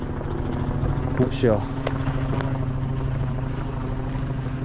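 A training helicopter flies overhead in England in November, its rotor a steady throbbing drone throughout while someone speaks briefly.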